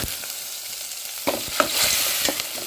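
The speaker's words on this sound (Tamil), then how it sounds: "இதனால் பச்சை வாசனை போகிற அளவுக்கு நல்லா கிளறிக்கலாம்." Onion and coriander paste frying in a pan while a spoon stirs it, a steady close sizzle broken by several scraping stirs, no voices.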